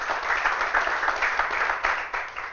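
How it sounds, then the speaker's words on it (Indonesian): A church congregation claps together in rhythmic unison, repeated bursts of hand claps at a steady pace, fairly close and full. "Tepuk tangan untuk Tuhan Yesus."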